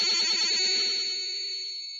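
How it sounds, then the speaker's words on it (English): Commodore 64 cassette data plays as a dense, shrill stream of high-speed warbling tones, loud and continuous with rapid rhythmic pulsing, alone without talk. "what you're listening to is a series of tones,"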